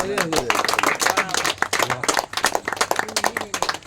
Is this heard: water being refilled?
no